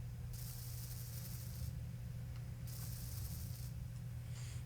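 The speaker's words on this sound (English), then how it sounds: "We'll weld this all up." Two sustained hissing bursts of block welding in Space Engineers, each lasting over a second, over a steady low mechanical hum with no talking.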